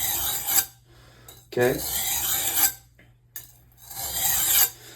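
A knife blade is drawn in a basic maintenance sharpening, with four long rasping strokes separated by short pauses, close and distinct, and a brief spoken word in between.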